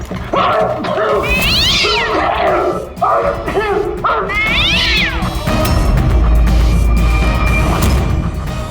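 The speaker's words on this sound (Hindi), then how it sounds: "उस रात तुम्हारे साथ यहाँ ये बिल्ली भी मौजूद थी।" A cat in a tense crime drama scene in a cursed forest gives several loud, drawn-out meows and caterwauls, close and clear over background music and rumbling drama effects.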